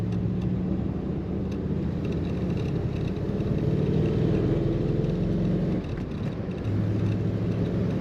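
A 1948 Ford Super Deluxe two-door sedan cruising along, its engine a steady low rumble with road noise inside the cabin, continuous throughout with a brief dip in level partway.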